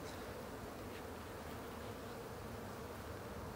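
Honey bees buzz in a dense, continuous hum, close up and steady, with no voices.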